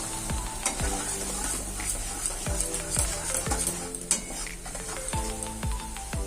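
Spice paste rinsed from a mixer jar with a little water into a hot pan while cooking chingri bhapa, a broadband sizzle with repeated utensil knocks and scraping strokes throughout, close and steady.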